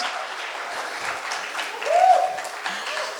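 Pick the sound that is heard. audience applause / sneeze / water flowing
audience applause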